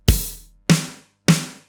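A drum kit plays part of a groove slowly with a hi-hat added: one deep kick-like thump followed by two sharper snare-like hits, evenly spaced, close and isolated, each ringing out briefly, with no voice.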